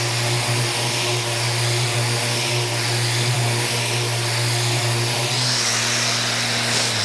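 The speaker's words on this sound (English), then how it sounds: "I can just about get in there as well with the edge of my sander" A power sander whirs steadily across the top of a wooden bedside cabinet, a loud close drone with a constant hum whose pitch shifts slightly near the end as the edge works in; no talking.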